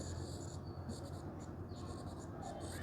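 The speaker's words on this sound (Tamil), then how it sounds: "இப்போ நான் எழுதுகிறேன் சாம்பிளுக்கு மேலே." A stylus pen writing on the screen of a Samsung S23 Ultra gives soft, faint scratchy taps and strokes in short bursts over a low, quiet background hum.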